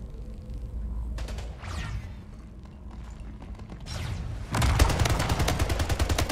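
A big gun firing in a video game: scattered shots and whooshes at first, then a loud, rapid continuous burst of fire in the final two seconds.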